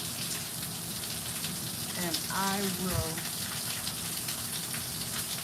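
Wind-driven rain blows through a patio screen as a steady broadband hiss and patter, with a person speaking briefly over it midway.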